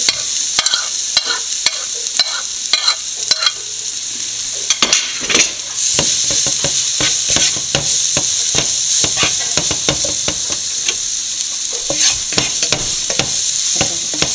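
Jackfruit seeds and grated coconut stir-fried in a pan, a steady sizzle running throughout with frequent scraping and clinking of a spoon stirring against the metal, loud and close with no talking.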